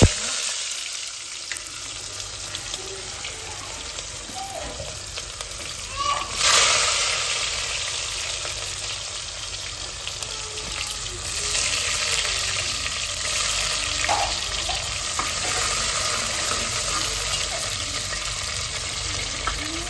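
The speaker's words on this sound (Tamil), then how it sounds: "கடாயை வச்சு நல்லா எண்ணெய் போய் விட்டு ஹீட் ஆகிடுச்சு" Hot oil frying in a kadai gives a continuous hiss that swells after a clatter partway through, with faint sounds of running water and occasional talking nearby.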